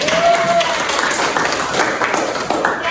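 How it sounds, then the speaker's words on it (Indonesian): An audience applauds during a biology teacher-training presentation at an Indonesian university, with steady, dense clapping filling the whole stretch, a short tone sounding near the start and faint voices mixed underneath. "Oke, tepuk tangan dulu lagi."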